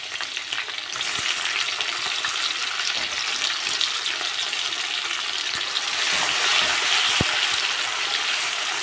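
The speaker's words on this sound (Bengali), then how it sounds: "এবার মশলাটা কিন্তু ভালো করে কষাই নিতে হবে" Onion, tomato, ginger paste and garlic paste hit hot oil with cumin and bay leaves, a loud continuous close sizzle with occasional stirring knocks, no voices.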